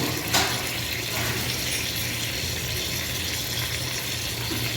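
Water runs continuously over chicken pieces being washed for biryani, a steady, close splashing gush without pause and no voices.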